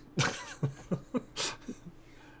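A person clears their throat several times in quick, close, fairly quiet bursts, a run of short rough hacks and grunts with a brief breathy rasp in the middle.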